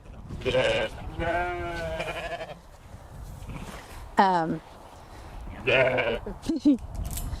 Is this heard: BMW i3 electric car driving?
no